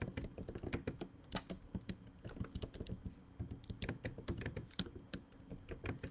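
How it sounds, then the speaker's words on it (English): Typing on a computer keyboard, quick irregular clicks and taps at close range, fairly soft, with no voices. "I'm going to type that in here right now."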